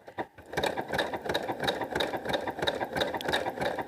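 A sewing machine runs steadily, stitching a bodice seam with a fast, even mechanical rattle that stays close and continuous for a few seconds, with no talking.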